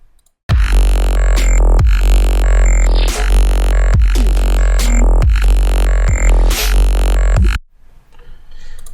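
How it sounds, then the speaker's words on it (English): Heavy synth drop from a dubstep track: loud, dense, gritty bass-synth blasts in a pulsing rhythm with sharp re-triggered hits, running for about seven seconds before cutting off to near silence. "If you haven't heard it, this is basically what the drop sounds like."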